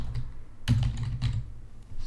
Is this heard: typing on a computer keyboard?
yes